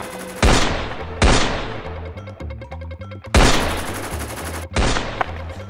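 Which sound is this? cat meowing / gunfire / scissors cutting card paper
gunfire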